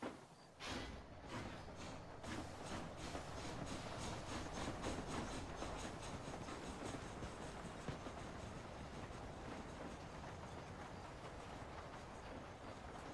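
A train rolls along the tracks in the video game Red Dead Redemption, a steady, loud rumble with a continuous rhythmic clickety-clack of wheels over rail joints and a heavy clunk near the start, and no voices.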